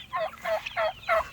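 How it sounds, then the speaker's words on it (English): Young barnyard-mix chicks and other farmyard poultry on a rural homestead, four bursts of high, chirping calls in quick succession, close and fairly loud with nothing else over them. "These are all of our new chicks."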